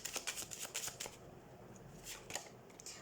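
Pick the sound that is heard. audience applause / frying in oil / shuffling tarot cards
shuffling tarot cards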